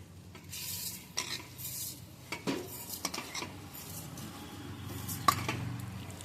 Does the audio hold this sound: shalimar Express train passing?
no